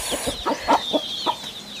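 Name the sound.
rooster clucking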